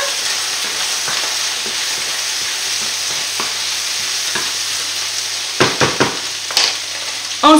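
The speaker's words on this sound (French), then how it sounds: "Voilà, on remue. Je vais remuer ma viande." Chicken meat fries in a pan for a blanquette, a steady close hiss of sizzling fat broken near the end by a quick series of scraping, knocking stirs.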